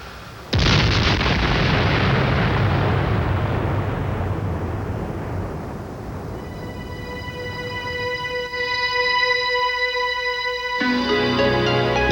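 Bomb blast after a weapon broke loose from a malfunctioning B-47, carrying the force of 5,000 pounds of dynamite: a sudden massive boom followed by a long rumbling roar that slowly fades, with a sustained tonal hum emerging later.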